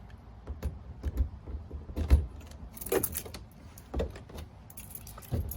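Keys jangle and clink in short, irregular bursts while an RV storage hatch is locked, with light metallic knocks and latch clicks close by and no talking.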